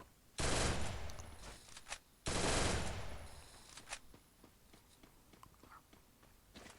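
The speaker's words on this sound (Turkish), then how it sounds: "Beyza Hanım tek tek headshot atıp sizleri Rabi'ye yollar efendim" Two long bursts of automatic gunfire from a battle royale video game, loud and close, each lasting over a second, followed by scattered lighter clicks and thuds.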